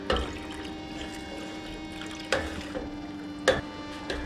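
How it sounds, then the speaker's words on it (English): Water pours into a pan of spicy pork ribs curry in a quiet stream, with a few soft clinks and splashes over low background hum and no speech. "So I'm going to add some more water."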